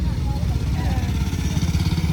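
A vintage military vehicle's heavy engine runs steadily with a deep, throbbing low rumble, close and continuous for the whole stretch, with faint voices in the background.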